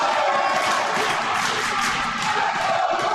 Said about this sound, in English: Got a little "you can't do that" chant coming from the other side now.